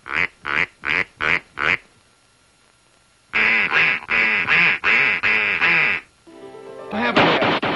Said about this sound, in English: A duck will always answer to a duck call.